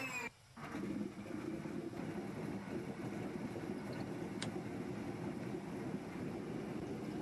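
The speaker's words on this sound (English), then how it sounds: "we're going to pull the lever to the right and start the engine." Radial piston engine of an Antonov An-2 biplane in the Aerosoft flight simulator cranking and catching, then settling into a steady, loud, continuous drone that fills the rest of the clip with no talking.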